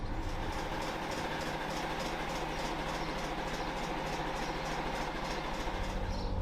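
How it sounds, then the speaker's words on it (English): A Class 73 electro-diesel locomotive at a heritage railway pulls away, a loud, steady engine drone with rhythmic rail clatter pulsing throughout, close and continuous with no voices. "Then it was time for the train to get going."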